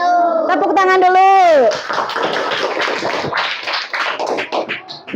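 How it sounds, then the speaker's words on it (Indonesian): Schoolchildren in a classroom clap their hands together after a sung or chanted phrase: a dense, busy patter of claps that fills the second half at close range, with a voice briefly mixed in. "Tepuk tangan dulu"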